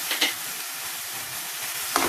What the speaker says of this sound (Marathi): चांगले 2-3 मिनिटं मी हे वाल परतून घेत आहे